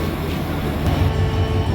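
The 765 Up Nilsagar Express, bound for Chilahati behind a 6600-series American diesel locomotive, sits at Akkelpur station's platform 1, giving off a steady, loud low engine rumble with no break.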